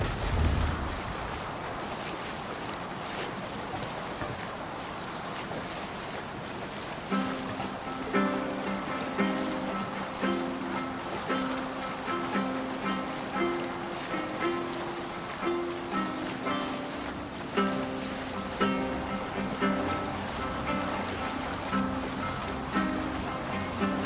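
A Viking longship sails over waves in Assassin's Creed Valhalla, with a steady wash of water and splashing against the hull under a rhythmic, music-like pattern, all continuous and fairly loud.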